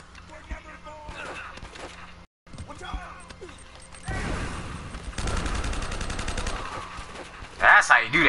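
Gunfire crackles in bursts in Uncharted: Drake's Fortune, with rapid shots building midway and a louder blast near the end, while someone talks over the action.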